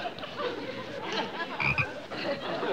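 A frog croaks repeatedly in short, rough, irregular bursts, fairly close, over a busy, noisy background with no clear speech.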